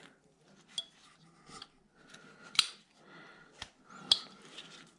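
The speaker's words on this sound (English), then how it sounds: "cut out a little triangle wedge" Scissors snipping out a small triangular wedge from material, a handful of sharp, quiet crisp cuts spaced irregularly with soft rustling between them.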